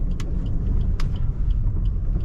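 A Maruti Suzuki WagonR CNG hatchback driving, a steady low engine and road rumble from inside the car with a few faint light clicks and rattles on top.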